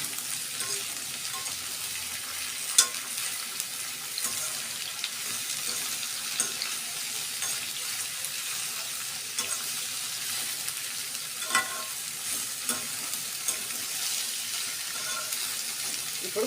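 Vegetables are being stirred in a pan, giving a steady, close sizzle with soft scraping throughout and an occasional light clink of the utensil against the pan.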